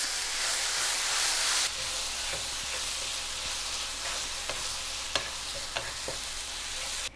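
Spices and red chili powder fry on lowered heat for a Kerala-style mutton roast, a soft continuous sizzle with a hissy burst early on, then scattered sharp clicks of a spoon stirring against the pan.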